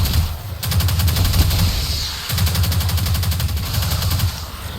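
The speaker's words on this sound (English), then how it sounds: "you can just keep shooting it with Risk Runner" The Risk Runner gun in Destiny fires in loud, rapid, continuous bursts, broken by two short pauses between strings of shots.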